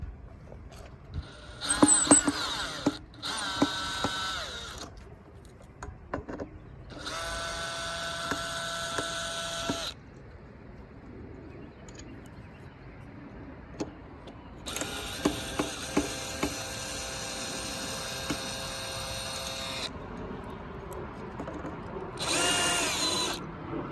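A power drill and ratchet work loose the bolts on a nest box, with several long whirring drill bursts separated by quieter stretches of clicking, clanking metal handling, close and loud with no talking.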